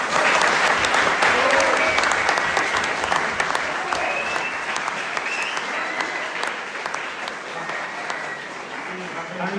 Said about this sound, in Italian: Possiamo fare un applauso per questo ragazzo?